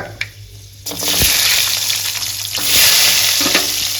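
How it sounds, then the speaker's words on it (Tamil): Garlic dropped into hot oil after mustard seeds splutter, for a herbal vatha kuzhambu, bursts into a loud close sizzle that swells and stays hot, with stirring clicks against the pan. "கடுகு பொரிஞ்ச உடனே பூண்டை போட்டுக்கலாங்க"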